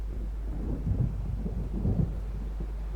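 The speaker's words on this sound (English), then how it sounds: "It seems there's a storm coming." A storm approaches in the Alan Wake Remastered game with low, rolling thunder that swells twice over a steady wash of rain and wind. There is no speech.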